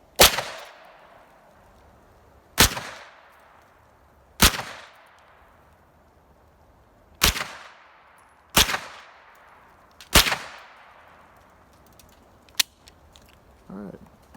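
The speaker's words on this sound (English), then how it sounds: "Shoot this one-handed." Pistol shots from a Glock fired one-handed at an outdoor shooting range, seven sharp, loud single reports spaced a couple of seconds apart, each ringing out briefly before the next.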